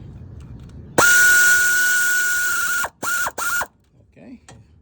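An Aircat 1/4-inch drive long-neck pneumatic ratchet runs in the balancer shaft gear bolts on a GM 2.4 L engine: one loud sustained whirring, whining burst with air hiss, then two short bursts and a faint clink.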